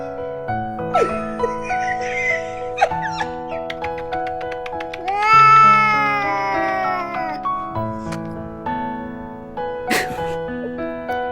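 Pet cat reacting to being kissed, giving several drawn-out meows and whiny cries with tonal music playing underneath, plus brief sniffing or sneeze-like bursts, close and fairly loud.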